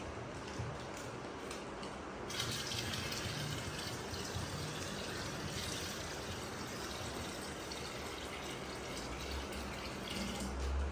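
Water running from a tap into a pot, a steady broadband rush that carries on unbroken and close by for about eleven seconds, with no voices over it.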